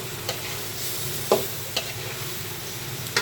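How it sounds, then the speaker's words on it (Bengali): Water lily stems cooking with shrimp in a pan as they are stirred, with a steady close sizzle and a few sharp scrapes of the spoon, no speech. "এখন নাড়াচাড়া করে আমি ঢেকে দেব"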